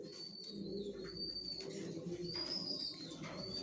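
Pigeons coo softly in a breeding loft of racing pigeons, several low murmuring calls overlapping with faint chirps, close and continuous.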